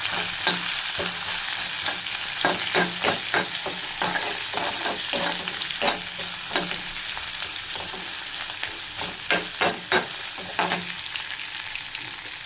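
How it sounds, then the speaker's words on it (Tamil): Chopped onion sautés in a hot pan, a loud continuous sizzle with repeated scraping stirs throughout. "ஒரு பெரிய வெங்காயம் கட் பண்ணி வச்சுருக்கோம், அது சேர்த்துக்கலாம். நல்லா வதக்கிக்கலாம்."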